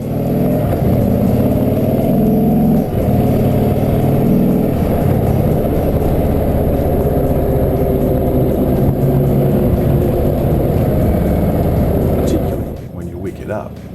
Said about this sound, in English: from the rider's perch it provides quite a rich and rewarding rumble